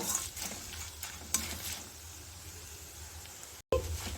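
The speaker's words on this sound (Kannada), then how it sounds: "ಎಲ್ಲ ಚೆನ್ನಾಗಿ ಫ್ರೈ ಆಗಬೇಕು" Ingredients for a puffed rice dish fry in a pan with a soft steady sizzle, faint stirring scrapes and a few light clicks, then a short drop to silence before the sizzle returns.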